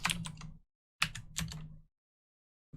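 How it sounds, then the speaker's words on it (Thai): Short bursts of clicky keystrokes on a computer keyboard, two quick clusters separated by pauses, fairly quiet and close with no talking. "ผมพิมพ์ help"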